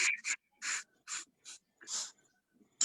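A puppy dog pants and snuffles up close in quick breathy bursts separated by short silences, with a faint whimpering whine threading between them.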